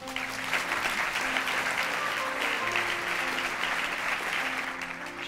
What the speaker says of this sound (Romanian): ne-am bucurat să-i aplaudăm în această seară